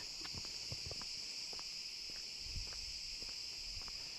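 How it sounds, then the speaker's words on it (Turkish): A constant high-pitched insect buzz fills the air like cicadas in woodland, with scattered soft ticks and low thumps underneath. "Ağustos böcekleri cır cır cır ötüyor."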